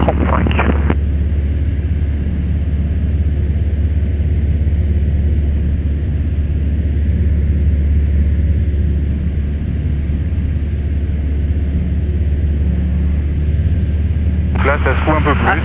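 Savannah S light aircraft engine droning steadily through a takeoff roll, a loud continuous low hum that fills the whole clip, with brief radio-style voices at the start and end.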